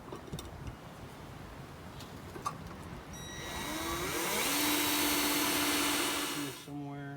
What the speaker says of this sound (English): I'm just going to put a couple of mounting holes in here